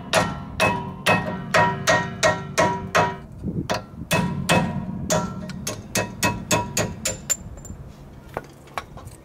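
Restraining pins are hammered out of a Volvo brake caliper in a series of sharp metallic hammer blows, close and fairly loud, in bursts with a short pause midway.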